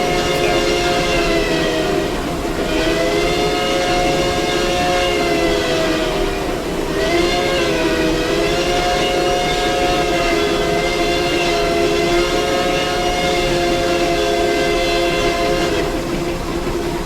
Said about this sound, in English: That's a whistle, yeah.